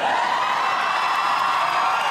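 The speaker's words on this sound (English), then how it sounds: "Hearing all the female screams." A female audience at a Gabriel Iglesias stand-up comedy show screams in a steady, sustained roar, loud and unbroken, with no clear talk.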